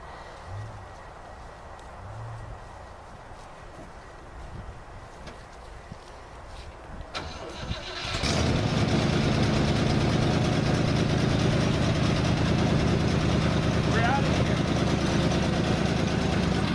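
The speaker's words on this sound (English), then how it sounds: "Fire this beast up, John." Quiet background with faint sounds, then a heavy diesel engine cranks and roars to life, settling into a loud, steady rumbling idle.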